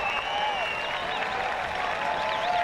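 Crowd at a high school boys lacrosse Division 2 final cheering and applauding steadily, loud and continuous, with whistles and shouts rising over the din.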